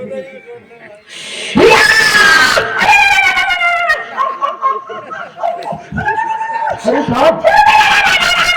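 Someone shouts loudly in a village nautanki stage comedy, his strained, high-pitched cries rising over scattered crowd laughter and other voices.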